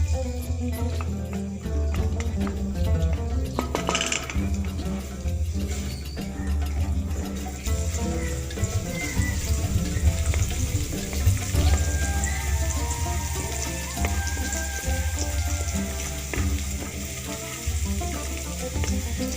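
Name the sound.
chopped garlic frying in oil in a wok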